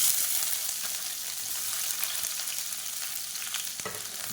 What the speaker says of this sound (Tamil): எண்ணெய் சூடானதும் 1 கைப்பிடி அளவுக்கு வெங்காயம் சேர்த்துக்கலாம்.